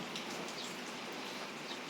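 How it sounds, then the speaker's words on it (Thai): Rain falling outdoors during a Thai rural cooking session, a steady, dense hiss of drops on surfaces with scattered brighter patters, continuous and fairly close throughout, no voices. "ฝนตกลงมาครับ"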